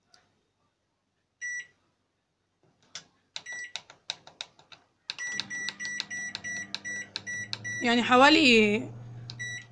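Microwave oven being set and started: a series of sharp beeps from button presses, then a steady low hum of the oven running, with someone speaking over it near the end.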